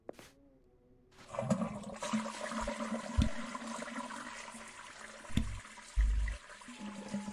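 A toilet flushes in the Burnhouse Lane game bathroom: a brief click, then a loud, sustained rush of water that swirls on for several seconds with a couple of thuds near the end.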